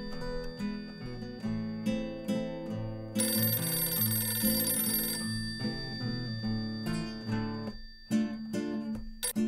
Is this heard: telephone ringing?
yes